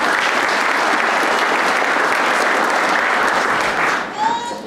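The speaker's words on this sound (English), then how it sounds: "I think we deserve a round of applause for that." Sustained, dense applause from a large audience at a county agriculture awards event, loud and steady for about four seconds before tapering off abruptly.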